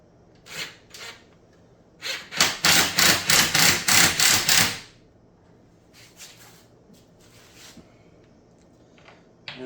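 Impact driver running bolts into a boot rack, a burst of rapid rattling hammering impacts in the middle, with scattered shorter bursts before and after, close and sharp.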